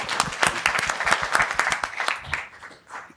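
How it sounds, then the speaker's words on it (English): A small crowd applauds with brisk, dense clapping that fades out after a few seconds. "Round of applause for Steve."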